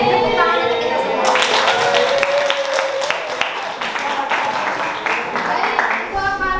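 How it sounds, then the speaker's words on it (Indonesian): A classroom of students breaks into applause, dense clapping rising after a moment and continuing for several seconds before fading, with voices mixed in. "Tepuk tangan untuk kita semua."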